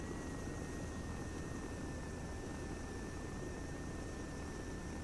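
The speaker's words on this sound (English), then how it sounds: "Land and see if there's anyone actually in the helicopter." A helicopter in the military game Arma 3 drones steadily at a distance, a faint, even rotor-and-engine hiss with a thin high whine and no talk.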